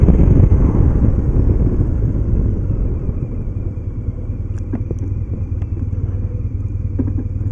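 A 2007 BMW R1200GS motorcycle engine held in third gear at about 2,500 rpm, a steady low rumble heard from the rider's position with wind noise, loud at first and then settling to an even drone.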